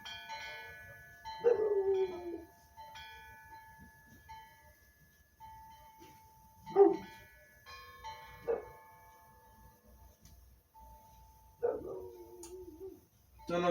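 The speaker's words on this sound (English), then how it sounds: "Don't know if you can hear my dogs barking, but they're always barking at something." Dogs barking, a boxer and an American Bulldog–Cane Corso mix, heard from a distance outdoors in a few separate bursts spread over the clip, with a low steady background hum.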